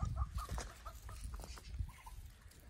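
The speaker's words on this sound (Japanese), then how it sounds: "ひたすらピヨピヨピヨピヨと、ひよこが鳴いてますね" Chicks peep repeatedly in short high chirps on a mild autumn day, faint and scattered over low rumbling background noise.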